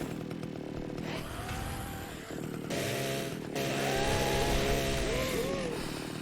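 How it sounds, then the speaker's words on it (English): Chainsaw in the horror game Splatterhouse, a steady revving engine drone running throughout with rising whine bursts, loud and close under a busy game mix. "it's good to see our chainsaw went through the portal with us"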